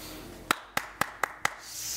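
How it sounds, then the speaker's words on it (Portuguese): A few sharp hand claps ring out in a TV studio, five distinct slaps spaced about a quarter second apart, close and fairly clear. "Salva de palmas para o nosso querido doutor Rômulo Brasil aqui"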